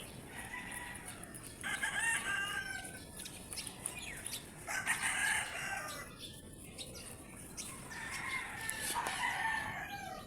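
A rooster crows three times at intervals amid clucking and chirping birds outdoors, moderately distant and fairly faint, with no speech.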